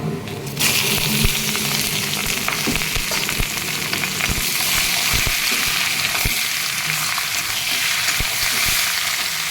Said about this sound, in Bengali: চিকেনটা ঢেলে দিচ্ছি